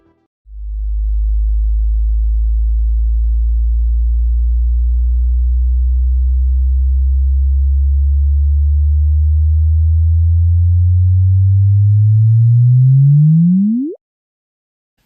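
A sonified kilonova from space sounds as a deep, smooth electronic tone that holds low and steady for over ten seconds, then sweeps sharply upward in pitch like a rising chirp before cutting off, loud and alone.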